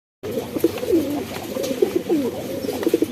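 Shahjahanpuri pigeons coo close by, with repeated soft, low, rolling coos overlapping one another, moderately loud and continuous, with no talking.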